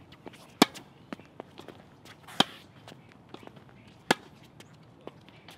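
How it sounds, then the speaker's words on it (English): Tennis volleys are struck on a court, sharp distinct ball pops spaced a second or two apart, with fainter footsteps and softer taps in between. "Let's hit some regular volleys."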